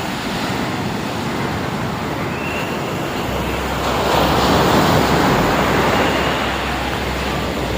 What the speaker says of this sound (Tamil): அலை நல்லா பெரிய அலை வரணும்